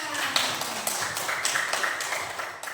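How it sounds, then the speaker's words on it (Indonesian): Students in a classroom clapping their hands together, several rhythmic bursts of claps repeating fairly close and moderately loud with no talking over them. "Oke, tepuk tangan."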